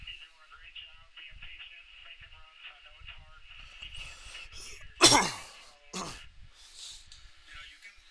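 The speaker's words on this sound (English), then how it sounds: "Still coughing from being sick" A sharp cough from a person recovering from illness rings out, followed by a second smaller one, over faint background race radio chatter.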